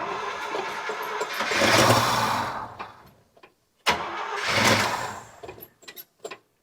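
A 1973 International Scout's engine cranks without catching: two long, loud bursts of whirring starter churn separated by a pause, then a few short clicks and taps as it fails to fire.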